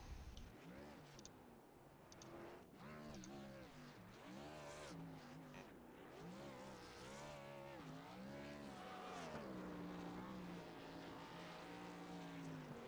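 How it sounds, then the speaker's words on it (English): Xfinity Series race car, a John Deere Mustang, at Charlotte: engine revs rise and fall in wavering tones under crowd noise and commentary, a celebratory burnout with faint tire noise at a distance. "Needs to practice the burnouts a little bit."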